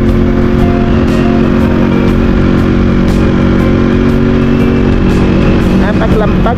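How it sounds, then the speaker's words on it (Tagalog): Tricycle overtaking on a provincial road, its engine droning loudly and continuously alongside other motor traffic, with steady rumble and wind noise and no talking. "Parang mag-overtake si tatay dahil hindi ko mabasa yung galaw ng tricycle niya"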